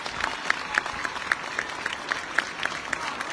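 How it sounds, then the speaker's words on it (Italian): Warm applause from the audience at a Christmas concert by 500 children, crisp claps falling in a quick, fairly even rhythm at moderate volume. "Sarebbe bello se facessimo un applauso caloroso"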